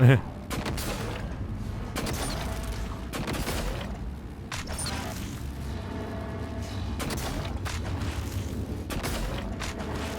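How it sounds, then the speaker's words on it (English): Weapon fire from a glue cannon in the video game Prey (2017), heard as a dense run of repeated bursty, thumping blasts that carry on steadily for about ten seconds with game noise underneath. "We could find out what a glue cannon does to it."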